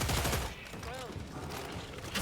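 Dense bursts of automatic gunfire in the Killing Floor sewers, loud and rapid, with a sharp burst at the start and more at the end, over constant combat noise.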